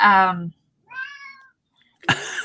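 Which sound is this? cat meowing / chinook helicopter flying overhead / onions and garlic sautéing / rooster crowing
cat meowing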